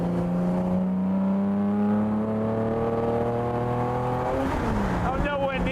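A 1957 Jaguar XKSS sports car engine pulls steadily and loudly from nearby, its tone climbing through a long acceleration before a gear change shifts the pitch, with talk faintly over the engine.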